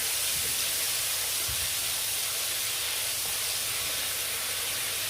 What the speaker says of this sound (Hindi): अब इसी ऑयल में जो है अदरक लहसुन का पेस्ट ऐड करेंगे और इसको थोड़ा सा भून लेंगे